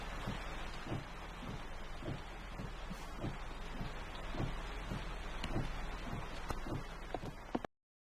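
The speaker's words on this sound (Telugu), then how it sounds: "వర్షం ఆగేలా లేదు." Heavy rain pours as a steady, dense hiss throughout, with soft regular low thumps beneath it, during a scene in a Telugu feature film; no distinct thunderclap stands out, and the sound cuts off abruptly at the end.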